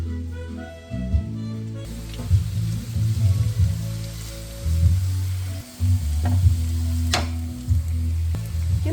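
Spices stirred into cabbage frying in a pan for a bean, rice and vegetable dish give a steady close sizzle with low stirring thumps and scrapes throughout.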